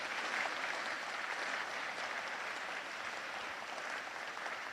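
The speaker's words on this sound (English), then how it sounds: "Could you also give them a round of applause as well?" A room at a city council meeting gives a round of applause, an even, sustained patter of many hands, somewhat distant and soft, holding steady throughout with no talk over it.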